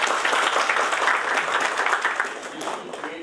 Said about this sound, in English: can you all give a round of applause?